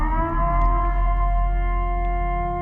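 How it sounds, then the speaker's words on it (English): Purge-style siren sound effect, a long sustained wailing tone with steady layered pitches, loud and alone with no talk. "Give that purge siren."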